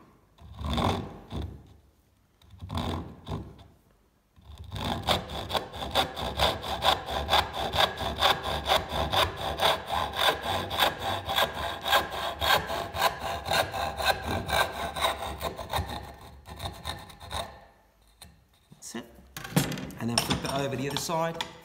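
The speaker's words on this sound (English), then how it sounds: "we're going to saw down this line here" Hand saw cutting through wood for a dovetail joint, with a few short strokes at first and then a long run of steady, rhythmic back-and-forth rasping up close, ending in a few quicker strokes.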